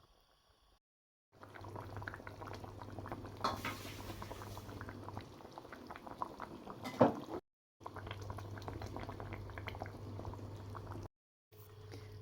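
Half-covered pot of fish soup sauce simmering, a soft continuous bubbling and gurgle heard close up, broken by brief gaps of near silence.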